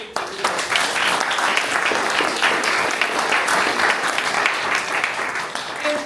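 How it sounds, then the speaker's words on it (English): Loud, sustained applause from a gallery audience, dense clapping that fills the whole stretch at close range and stays steady throughout. "could you guys just join me in giving them a round of applause?"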